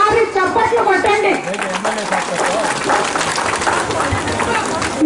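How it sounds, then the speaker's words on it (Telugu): An audience at a public gathering honouring NT Rama Rao breaks into dense, sustained clapping and crowd noise, following a brief stretch of someone speaking over a microphone. "ఒక్కసారి చప్పట్లు కొట్టండి."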